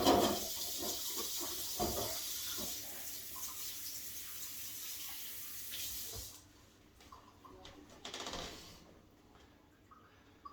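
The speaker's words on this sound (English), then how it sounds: "Wash my hands." Hands are washed under a running tap in a farmhouse kitchen while bread dough is being made: a steady hissing water flow that stops after about six seconds, followed by faint splashing and drips.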